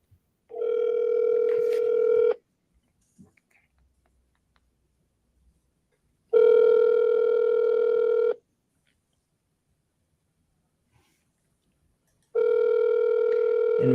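Three steady electronic ringback tones, each about two seconds with long silent gaps, sound while a phone call to a property agent goes unanswered.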